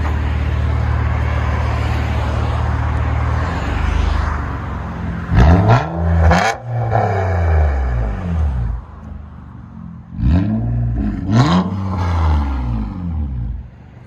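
A loud Nissan Altima engine with a straight-pipe exhaust idles with a deep rumble, then revs sharply twice, dies down, and revs twice again through a throaty, raspy exhaust.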